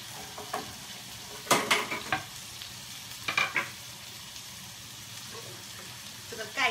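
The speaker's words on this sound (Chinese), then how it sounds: "我们把鸡肉呢翻过来之后啊，哦，稍微煎一下" Chicken pieces turned over and pan-fried in a pot for sukiyaki give a steady, fairly faint sizzle broken by several sharp clatters from a utensil against the pan.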